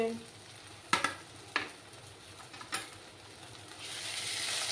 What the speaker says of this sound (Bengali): আদা রসুনের পেস্টটা দিয়ে দেব। দিয়ে ভালো করে কষাতে হবে।